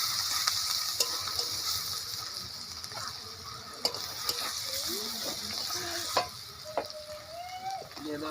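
Ginger, garlic and green chillies fry in oil as a base for a soup served with mutton momos. A steady, close sizzle carries on throughout, with scattered utensil clicks and taps.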